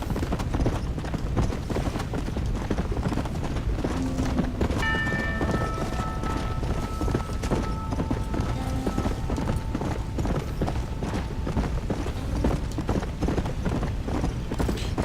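Horse hooves clip-clop at a steady gallop in the zombie western game Undead Nightmare, a continuous rhythmic patter under a dense noisy bed with a brief whinny-like tone midway.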